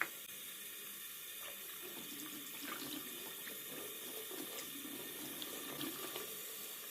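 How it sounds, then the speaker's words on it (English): Tap water runs steadily from a faucet into a coolant and antifreeze tester, a soft continuous splashing stream that stays fairly quiet and even throughout, with no voices. "To verify if the tester is working and not fake, I fill it with the tap water."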